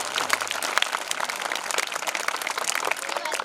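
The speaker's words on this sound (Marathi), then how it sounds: "मुलांनी आता जोरदार टाळ्या द्या बरं" Students at a Shendi Vidyalay school farewell ceremony clap loudly and steadily throughout, a dense, continuous patter of many hands with no talking over it.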